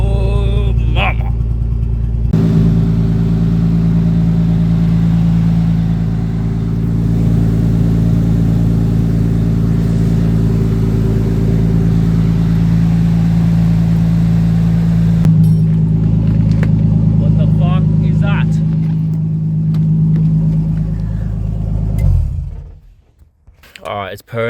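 A Nissan R33 Skyline engine idles steadily and close after a fuel injector replacement, a smooth continuous low hum with a strong fundamental that holds for over twenty seconds, briefly changing pitch midway, then cuts off at the end.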